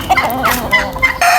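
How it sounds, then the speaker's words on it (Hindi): A rooster brought along with a flock of hens clucks and crows in short, loud bursts close by, several clipped calls in quick succession with no talking over them. "मुर्गा लेके आए हैं वरना लड़ पड़ेगा सारों के साथ"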